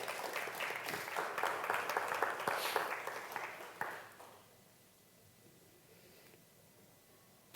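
A church congregation breaks into applause, a dense burst of clapping that swells for about four seconds, then cuts off sharply to near silence, with a faint voice in the background.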